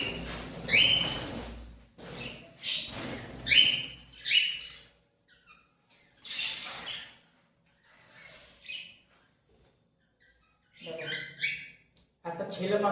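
Pet cage birds, including a full adult male, give sharp chirps and whistled calls in scattered bursts, close by and interleaved with someone talking.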